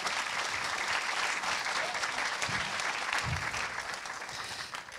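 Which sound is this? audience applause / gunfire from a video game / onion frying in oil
audience applause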